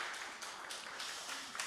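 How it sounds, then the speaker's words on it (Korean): A short burst of church congregation applause, soft and even, with claps merging into a continuous patter that holds steady throughout and has no speech over it. "박수 한번 해주시죠"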